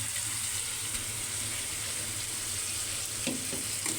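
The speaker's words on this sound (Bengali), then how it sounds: "টমেটোটা কষানো হয়ে গেছে এখন মাছগুলো দিয়ে দিবে সুরমা মাছ দিয়ে দেবে এখন" Surma fish going into a pan of sautéed tomato, setting off a steady, close sizzle and frying hiss that runs evenly throughout, with faint stirring and clinks.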